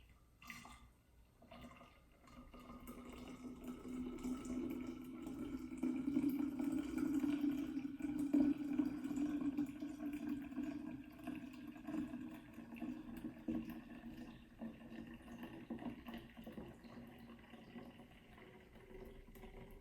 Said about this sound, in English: once I have poured everything through the strainer, you're not gonna really see much in the strainer except for froth